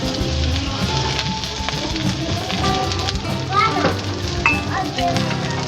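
Pork for humba fries in a pan with a dense, close sizzle and occasional stirring scrapes, while a voice talks over the cooking.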